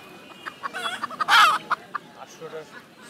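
Rooster and hens at the Saturday Putia haat bird and poultry market, clucking in quick, uneven bursts, with one loud, close squawk or crow in the middle and faint market chatter behind.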